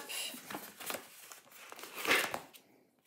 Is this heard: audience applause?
no